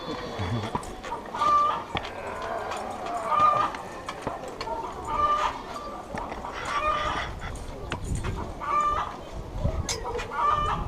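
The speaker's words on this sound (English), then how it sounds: "Shut that chicken up." A farm chicken clucks repeatedly in short bursts over outdoor background noise, fairly close and moderately loud, with no other sounds standing out.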